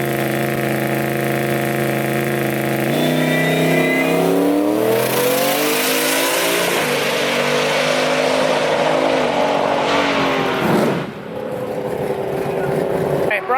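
A Volvo drag car on a drag strip revs hard and launches, its engine climbing through rising gear pulls at close range, loud and continuous, then easing off near the end.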